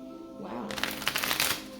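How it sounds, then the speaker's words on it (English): A small tarot deck is shuffled by hand, a quick riffling burst of card flutter lasting about a second, close and fairly soft after a quiet moment. "One last shuffle for the collective, July 10th, 2020"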